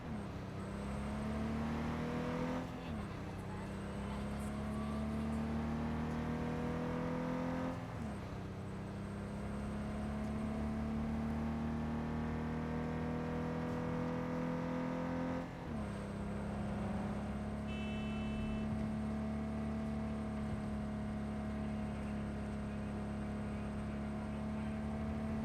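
A car engine drones while driving in Cyberpunk 2077, a loud continuous harmonic whine that climbs in pitch through gears, with brief dips at shifts around several points, no talking over it.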